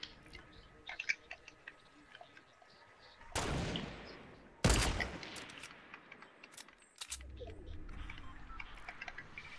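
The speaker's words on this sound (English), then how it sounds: "He's shooting, bro." Gunfire in a Fortnite match: scattered sharp pops, then two dense bursts of rapid shots and a longer rattling stretch of firing, mixed with small clicks and game effects, fairly loud and close.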